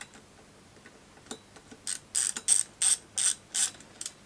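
A ratchet tightens engine cylinder head bolts, with a few faint clicks at first and then a steady run of loud, close ratcheting strokes, each a crisp burst of clicking separated by short pauses.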